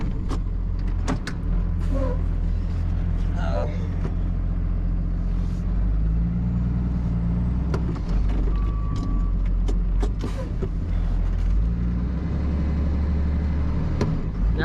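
A stuck truck's wheels spin in place in sunken ground, a heavy continuous engine rumble with churning, grinding bursts and occasional clanks, close and steady throughout.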